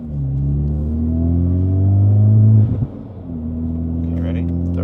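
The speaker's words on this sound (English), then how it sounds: "So now we're gonna do a full throttle." A 2024 Acura Integra engine with a flex-fuel E85 tune climbs loudly under full throttle in third gear, its rising drone building for a few seconds before abruptly dropping to a lower steady hum.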